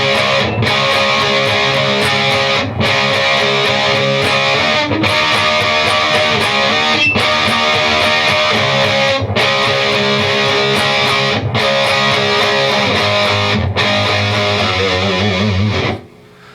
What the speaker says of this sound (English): So let's play just the distortion.